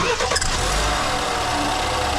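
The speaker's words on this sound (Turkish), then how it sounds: "O zaman çalıştıralım kancam arabayı" A BMW 5 Series car undergoing 100,000 km heavy maintenance cranks and starts, its engine catching into a dense, steady running rumble, close and loud.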